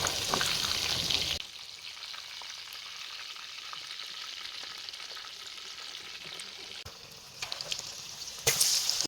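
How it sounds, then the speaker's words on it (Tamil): Prawns deep frying in hot oil for prawns 65 give a loud, bright sizzling hiss that drops suddenly to a quieter, steady bubbling crackle, then flares up again near the end. "எல்லாமே போட்டு பொரிச்சு எடுத்துக்கலாம்."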